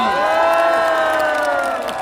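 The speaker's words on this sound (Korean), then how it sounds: "다시 한번 큰 박수 부탁드리겠습니다" A crowd at a Democratic Party campaign rally for a city council candidate in Cheongju cheers and shouts loudly, a dense, sustained roar of many voices lasting a couple of seconds.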